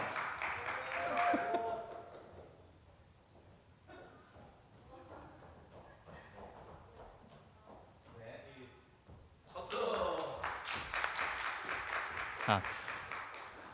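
Applause from a youth church congregation, rising in a burst of clapping early on and again in a longer, denser round near the end, with talking between.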